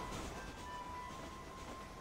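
Train rolling along in the video game Red Dead Redemption, a steady rumbling ride with a faint sustained tone over it, continuous and alone for the whole stretch.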